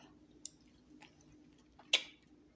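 Someone chews a bite of fresh peach, with soft, close, wet squishy mouth sounds in a few brief bursts and one sharper bite near the end, no talking.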